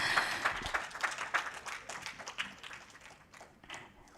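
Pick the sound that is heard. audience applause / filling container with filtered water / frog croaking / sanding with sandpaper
audience applause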